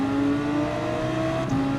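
Race car engine from a Gran Turismo daily race, a steady held tone with a brief shift near the end as the car closes on a Lamborghini Huracán ahead, loud and alone without talk.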